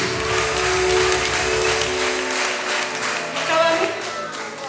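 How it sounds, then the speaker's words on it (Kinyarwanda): A church congregation at a Rwandan Christian revival meeting claps and applauds together, a dense sustained patter of hands rising and falling over a few seconds, with voices mixed in. "Amashyi menshi ku mwami wacu Yesu"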